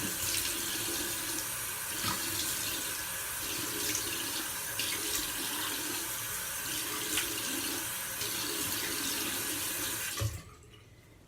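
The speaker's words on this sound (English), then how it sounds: "And just get in there and wash it off." A face is splashed and washed under a running tap, a steady loud gush of water with small splashes on top that stops abruptly near the end.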